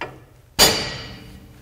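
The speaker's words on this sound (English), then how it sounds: "when you hit the spindle with the hammer so it doesn't drop all the way off" A single sharp hammer blow strikes a Jeep Wrangler spindle to knock it free of the ball joints, a loud close metallic clang that rings and decays over about a second with no talk.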